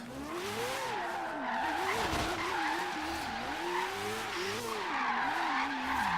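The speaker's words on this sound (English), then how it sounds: "let's drift" A Mad Mike Mazda RX-7 drifts across a parking lot in a driving game, its rotary engine wailing and wavering in pitch under a continuous loud tire screech for several seconds, with no talking.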